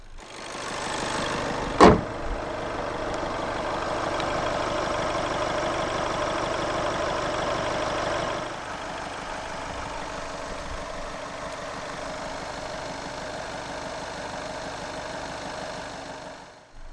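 2015 Volkswagen Passat 1.6 TDI 120 S diesel, heard just after start-up: a brief sharp transient, then a steady clattery idle that drops to a lower, calmer hum after several seconds, close and alone.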